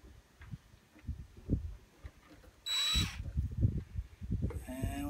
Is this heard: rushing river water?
no